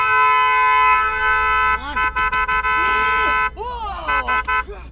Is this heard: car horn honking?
yes